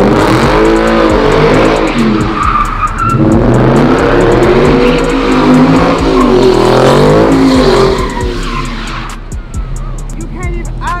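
Car engine revving hard as the tires spin and squeal, a loud sustained roar rising and falling close by, with voices talking over it, then dropping off near the end.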